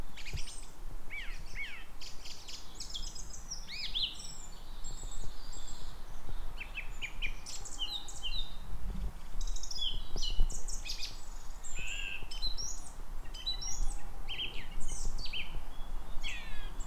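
Many birds chirp and sing outdoors in a dense, continuous chorus of short high calls, moderately distant over soft background noise, with no talking.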